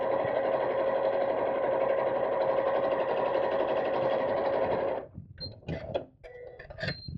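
A sewing machine runs steadily, stitching straight across the bottom of a fabric craft bag close to a seam. It whirs loud and continuous for about five seconds, then stops, leaving a few short clicks and handling noises.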